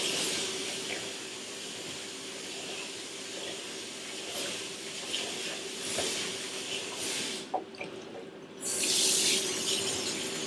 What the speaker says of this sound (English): So I'm going to rinse this off with cold water.